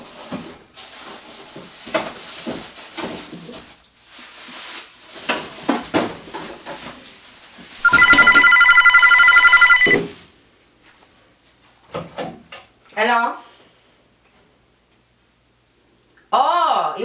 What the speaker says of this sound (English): Phone for you!